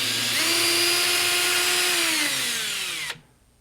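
A cordless drill backs a screw out of wood, its motor whining loud and close for about three seconds. The pitch sags slightly as it works, then the sound stops abruptly.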